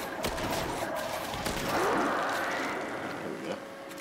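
Rapid gunfire crackles through a dense Destiny firefight, a steady wall of shots and explosions mixed with game noise for a few seconds.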